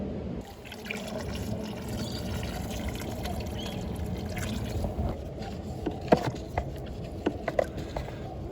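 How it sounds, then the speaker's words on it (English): Steady water flowing and trickling through a pump-driven aquaponics system used for growing trees, a continuous close wash with a few small splashes and drips toward the end. "So by shutting the water pump, it will stop the water flow"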